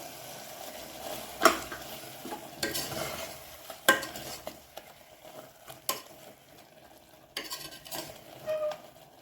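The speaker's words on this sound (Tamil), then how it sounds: "இப்போ இந்த அரைச்சி வச்ச தேங்காய் விழுத சேர்த்துக்குவோம்" Ground coconut paste is stirred into mutton gravy frying in a pan, with repeated scraping spoon strokes against metal over a soft sizzle, close and moderately loud.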